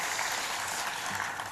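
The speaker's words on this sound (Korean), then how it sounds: "우리 성가대에게 다시 한번 격려의 박수 부탁드립니다" A church congregation at a Sunday service claps for the choir, a dense, even wash of applause lasting a moment, fairly soft and distant.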